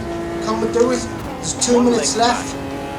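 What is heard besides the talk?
race car engine revving in video game Automobilista 2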